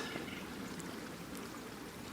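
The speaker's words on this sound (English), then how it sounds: "I can see the beans bubbling at the top." Baked beans bubble in a pot over an open fire outdoors in snowy weather, giving a steady, close, continuous bubbling and sizzling wash with no voices.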